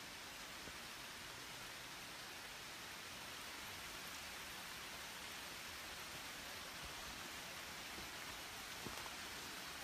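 Water drips from wet trees onto a forest trail like light rain, making a faint, steady, continuous patter and hiss with no distinct single drops and no voices.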